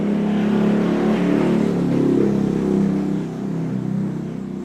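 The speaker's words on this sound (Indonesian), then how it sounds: "Kayaknya suara knalpot brong itu yang ikut menjauhkan kita dari Tuhan deh" Motorcycle with a loud modified exhaust revving steadily and close, a dense low engine roar holding through with slight swells in throttle, no voices.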